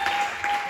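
A crowd claps together at an evening stock exchange and investment talk, a brief dense burst of applause from a roomful of people.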